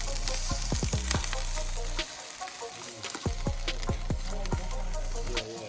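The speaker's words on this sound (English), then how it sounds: "When you just throw everything you have left in the pan, cook it all for breakfast." Leftover breakfast ingredients sizzle in a pan, a steady crackling hiss broken by several sharp stirring scrapes and clicks.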